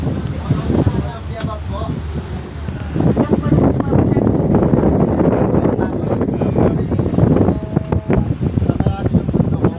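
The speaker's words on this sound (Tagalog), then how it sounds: "Ang sarap ng hangin, grabe." Strong wind buffets the microphone outdoors, with constant low roaring rumble and gusty surges that swell and ease, while people talk over it.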